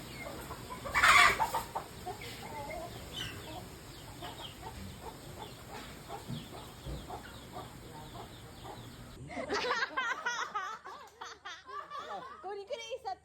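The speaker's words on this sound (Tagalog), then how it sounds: "Ito yung mga manok tayo na nakahabol." Chickens cluck and cackle in a rural farmyard, with several birds calling close by and people talking in the background.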